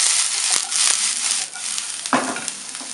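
Young sunflower sprouts are dropped into a hot pan for a stir-fry with fresh shiitake mushrooms. A loud, steady sizzle and crackle swells sharply as they land, with stirring scrapes and no talking.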